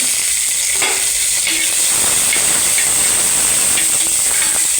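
Dried red chillies hiss and sizzle in hot oil in a pan for a Kerala-style fish curry, a loud, steady, close frying roar that runs unbroken throughout with no voices.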